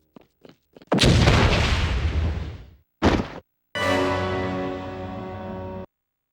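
A grenade goes off in the video game Enter the Matrix, a loud booming blast that rumbles and decays over about two seconds, preceded by a few quick clicks and followed by another short burst and a ringing tail.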